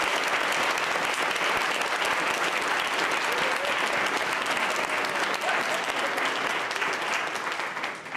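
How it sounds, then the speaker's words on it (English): A crowd at a school spelling bee claps for the contestants, loud dense applause that holds steady throughout and only begins to thin at the very end. "We need the biggest round of applause for our stars."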